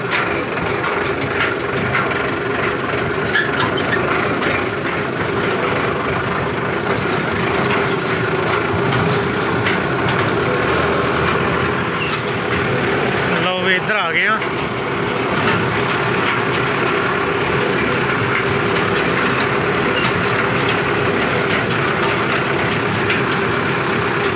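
A wheat harvesting machine and a tractor run with a continuous loud mechanical drone and rattle that holds steady across the whole stretch, briefly disturbed midway.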